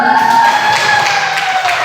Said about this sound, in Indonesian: Silakan ibu kelompok 1 kita beri tepuk tangan dulu